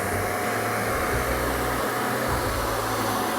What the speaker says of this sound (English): And just blow dry.